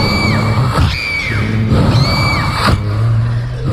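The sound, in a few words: woman screaming in pain, horror story sound effect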